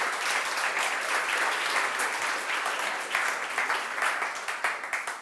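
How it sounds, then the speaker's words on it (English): A room full of audience members claps steadily for a few seconds in warm, dense applause for young entrepreneurs at a talk, tapering slightly at the end. "can we get a little applause for these youngsters here?"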